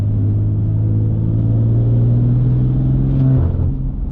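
A straight-piped 650 hp BMW F80 M3 revs close by, its exhaust a deep, loud, aggressive drone with no rasp, holding steady before the revs drop away at the end.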